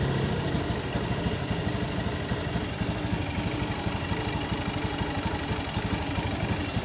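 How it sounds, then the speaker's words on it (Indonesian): A Honda Beat/Vario motorcycle with a fuel-injection idle-valve fault idles close by, its engine pulsing unevenly and sagging as if about to stall, with no voices over it. "motor malah mau mati pada saat stasioner"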